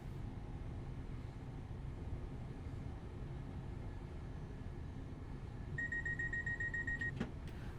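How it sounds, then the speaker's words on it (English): A two-tone vigilance device alarm beeps in a train simulator cab on the Medway Valley Line, a steady repeating tone over low rumbling motor and track noise near the end of the run. "The sound you just heard was a vigilance device."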